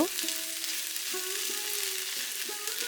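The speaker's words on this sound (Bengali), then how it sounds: "গ্যাসের ফ্লেমটা মিডিয়াম টু হাইতে রেখে আমি খুব ভালো করে কষিয়ে নেব" Onion with ginger and garlic paste frying over a medium-high gas flame for a pabda fish curry, a steady close sizzle with faint scrapes of stirring and no talk.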